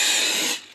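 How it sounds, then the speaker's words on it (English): Aerosol cooking spray hisses onto the sides of a bowl holding smooth sourdough pretzel dough, a close, steady burst lasting about half a second before cutting off. "I'm going to spray"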